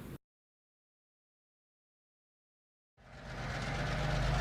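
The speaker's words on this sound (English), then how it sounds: "Oliver was woken by the sound of diesel engines." After a brief sound and a stretch of silence, deep diesel engines rumble up and grow steadily louder and closer, throbbing with a low idle.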